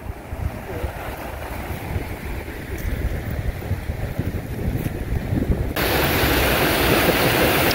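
Water pours steadily over an old grist mill dam with a broad, constant rushing roar that grows louder and brighter partway through, wind buffeting in the background.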